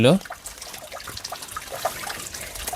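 Spring water trickles out from beneath mango tree roots in a small village, a soft, steady, gurgling flow heard up close after a brief louder burst at the start.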